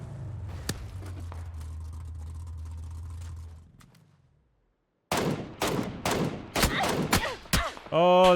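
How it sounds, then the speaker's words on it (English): Enemy gunfire in PUBG on console, sharp close shots in irregular bursts following a stretch of engine-like drone and a brief silence. "Oh, there's another guy shooting at me."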